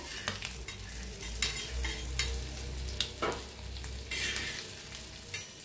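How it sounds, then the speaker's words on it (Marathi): Eggs frying in a pan, a steady quiet sizzle broken by occasional spatula scrapes and light metallic taps, heard close with no one talking. "तर दुसरी बी अंडे फ्राय करायला लावून घेतले बघा"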